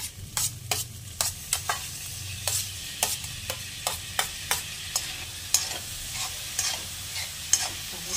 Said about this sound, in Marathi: लसूण परतल्यानंतर टोमॅटो घालायचे.